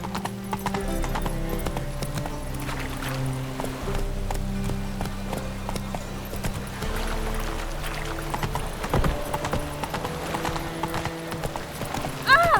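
Hooves of a horse clip-clop steadily in The Witcher 3 game world, a continuous trotting rhythm over a bed of ambient game sound and music, with occasional brief voices.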